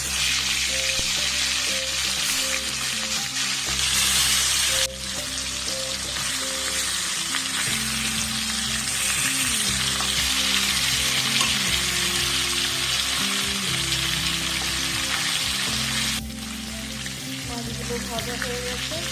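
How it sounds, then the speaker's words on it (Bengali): Hilsa fish pieces fry in mustard oil in a kadai, a loud, steady, close sizzle that hisses on for a long stretch with occasional shifts as the pieces settle. "এবার আমি মাছগুলোকে ভেজে নেব এপিট ওপিট করে"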